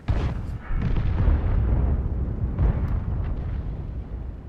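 A tank cannon firing in the World of Tanks video game, a deep heavy boom with rumbling low end, followed by further dull thuds and rumble a few seconds later.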